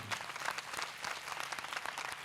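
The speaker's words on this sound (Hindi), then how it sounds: "जोरदार तालियां।" A Sunday service congregation in a house of prayer applauds, dense even clapping from many people heard from a distance at low volume, continuing without pause and without talking.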